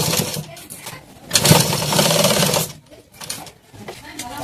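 A sewing machine stitching a katori blouse runs in short bursts of fast, steady mechanical whirring, close and fairly loud, with someone talking around the stitching.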